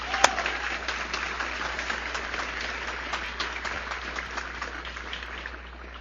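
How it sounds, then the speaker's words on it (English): Sustained audience applause at a fire training center graduation ceremony in Long Beach, honoring the Chief of Police; a broad, steady wash of clapping from a sizable crowd that fades slightly toward the end. "How about a round of applause for the Chief of Police?"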